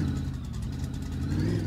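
A game car with a V8 engine runs steadily at a low idle-like rumble, close and continuous with slight swelling, no talk.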